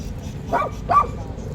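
Real dog giving two short, moderately near barks about half a second apart, somewhat muffled, over low background noise.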